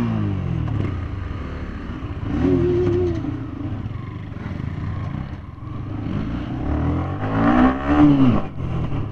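A KTM Duke 390 motorcycle revs while riding off-road on a dusty track, its engine rising and falling in two louder surges amid a steady nearby drone.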